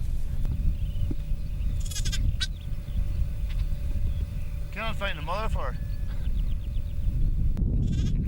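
Sheep and lambs bleat on a hillside farm in Northern Ireland's Braid Valley, wavering cries rising over a steady low rumble, with someone talking over the flock.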